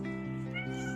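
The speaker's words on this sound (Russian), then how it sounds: "Счастливый кот, но все равно недоволен." A cat meows outdoors in a Belarusian village in autumn, one long drawn-out plaintive cry, close and clear, with no speech.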